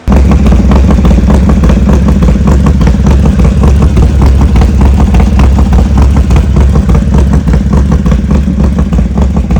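A Harley Dyna motorcycle fitted with a new Mikuni carburetor runs close by, its engine loud and steady with a throbbing, slightly uneven idle that holds throughout without pause.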